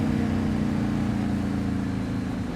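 Yamaha MT-01 SP motorcycle engine under way on a ride, a steady deep throbbing drone held at constant loud level throughout, close and with no talk.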